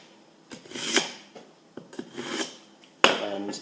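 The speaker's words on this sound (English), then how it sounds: "I always sharpen my knife just before I cut it." A knife sharpened for slicing smoked salmon, three distinct scraping strokes of the blade along a steel, each swelling and ending sharply, close and alone.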